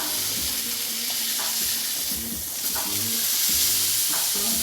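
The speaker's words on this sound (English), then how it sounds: "I'm going to go ahead and flip the fish now" Cod fillet fries in butter and avocado oil, crackling and sizzling steadily up close while a utensil clinks and scrapes against the pan several times as the fish is turned.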